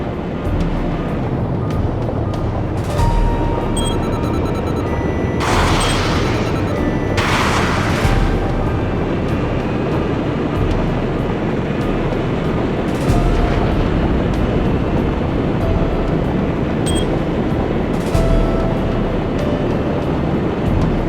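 Hangars blowing up in a flight combat game, with a steady roaring rumble of explosions and gunfire and a few sharp bright bursts standing out, loud and sustained over the whole stretch.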